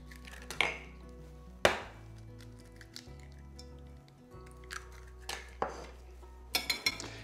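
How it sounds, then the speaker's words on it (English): Two large eggs cracked against a plate or bowl, sharp taps and shell cracks spaced apart, followed by light clinks and a quick cluster of knocks near the end. "Then crack 2 large eggs into another plate or bowl."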